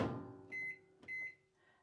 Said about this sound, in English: I'm going to just put this in the microwave